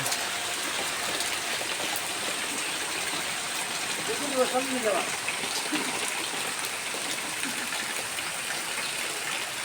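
Steady rain falls in a village in hot weather, a continuous close hiss of water that is loud and even, with a faint brief tonal sound partway through.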